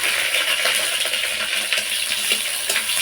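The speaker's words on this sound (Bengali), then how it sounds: "এবারে ফোড়নে দিয়ে দিচ্ছি গোটা জিরে, দিয়ে দিচ্ছি একটা তেজপাতা আর একটা শুকনো লঙ্কা।" Whole cumin, a bay leaf and a dried chili sizzle and crackle in hot oil, a loud, steady frying hiss with small pops throughout.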